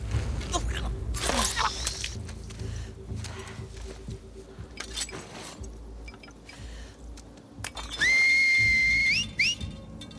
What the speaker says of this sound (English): Don't whistle.